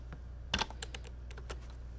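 Keys tapped on a computer keyboard in a quiet room, a short burst of several quick clicks followed by a few scattered, softer keystrokes, with no talking.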